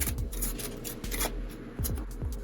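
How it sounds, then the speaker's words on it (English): Playing cards slide and rub against each other in short bursts during a riffle shuffle over a steady low background hum, with a few soft taps from handling. "And then another shuffle."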